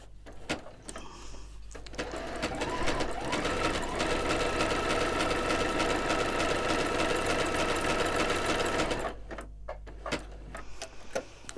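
A sewing machine stitches appliqué in one steady, loud run of about seven seconds, heard up close, with a few light mechanical clicks before and after.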